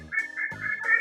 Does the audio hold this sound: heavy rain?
no